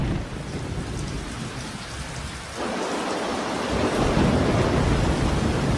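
Heavy monsoon downpour in the Western Ghats with rolling thunder, a dense wash of rain that briefly dips and then swells louder under a deep rumble.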